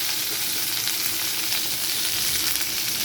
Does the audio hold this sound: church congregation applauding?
no